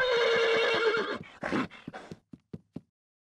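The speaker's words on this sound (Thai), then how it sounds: "เสียงลาร้อง ลาร้องฮี้ฮอฮี้ฮอ" A donkey brays loudly and close by: a long drawn-out tonal call that breaks into rough gasping heaves, ending in a few short separated grunts.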